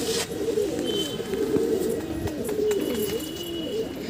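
Pigeons coo in a steady low murmur, close and continuous, with faint chirps and small background noises scattered over it.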